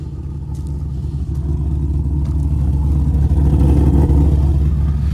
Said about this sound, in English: That thing do got a cam and it's loafing.